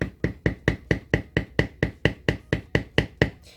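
A leather beveler tapped along its tip to texture a leather background: about fifteen crisp, close knocks at a quick, even rhythm of roughly four per second, with no voices.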